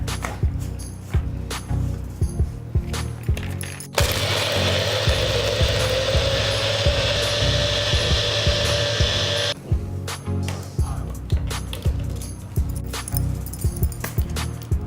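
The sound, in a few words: blender blending mango shake with mango squash and ice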